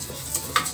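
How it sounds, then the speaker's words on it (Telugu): Moong dal fries in ghee for payasam, a brief close hiss with a couple of quick scraping stirs against the pan. "మంచి సువాసన వస్తుంది నెయ్యిలో పెసరపప్పు వేగేటప్పుడు"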